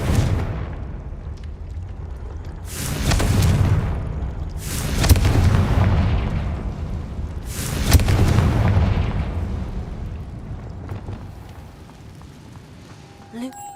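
Repeated fiery explosions from the Confringo spell in the Hogwarts Legacy video game, with three heavy booming blasts a couple of seconds apart, each rumbling out over a low, continuous background hum.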